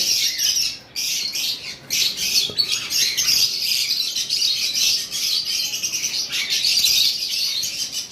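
Lovebirds, among them blue violet masked birds, chirp and squawk in a dense, continuous chorus of shrill calls with brief pauses, fairly close and loud, no voices.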